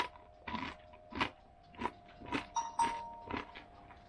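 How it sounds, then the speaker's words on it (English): Crunchy crust of bread baked from canned soup, bitten and chewed up close in a series of about eight crisp crunches spaced evenly over a faint steady hum. "It's a nice crunchy crust."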